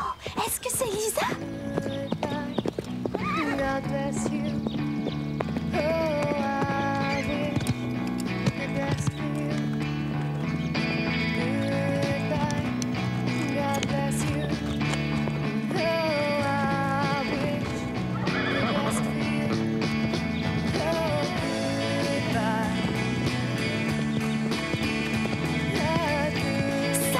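Horses gallop with rapid clip-clop hooves and repeated whinnies in an animated riding scene, heard under continuous music with voices talking.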